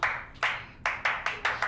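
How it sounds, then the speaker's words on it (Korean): A small audience claps in slow unison during a Korean movie-recommendation program, about seven sharp, evenly spaced claps with a brief decay after each, fairly quiet. "자, 박수."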